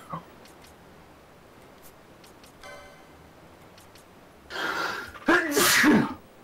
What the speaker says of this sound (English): I just about sneezed onto the mic